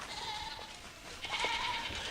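A Kiko goat doe bleats twice in succession, each call a wavering, nasal cry, fairly faint against a soft background hiss.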